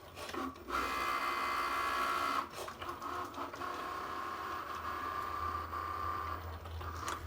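A Cricut cutting machine works through a design, a steady mechanical whir with carriage movements and brief shifts in pitch, close and continuous with no talking.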